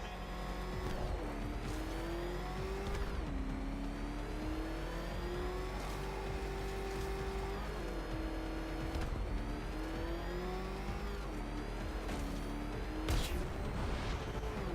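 Car engine driving in the Batman: Arkham Knight video game, a steady mid-pitched motor drone with rising and falling revs as it accelerates and shifts, loud and continuous with a sharp thump near the end.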